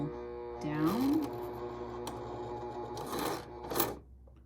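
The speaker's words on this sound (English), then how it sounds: "I'm depressing the foot press on the sewing machine, and it's going to send the needle down" A sewing machine's needle is sent down by pressing the foot pedal, giving a brief mechanical whir and clicks at moderate volume with some faint background noise.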